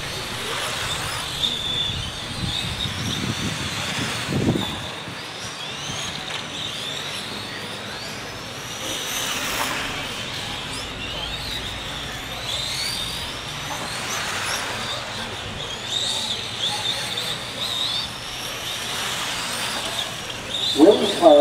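Formula 1 race cars whine past at speed, engines rising and fading in repeated passes down the front stretch, with a steady crowd-like roar underneath and a commentator talking over it.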